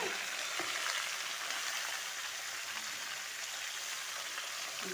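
Chopped mixed vegetables hit hot oil in a pan for a Bengali pui shak curry, a steady broad hiss that holds evenly at moderate loudness, with a couple of soft knocks and no talking.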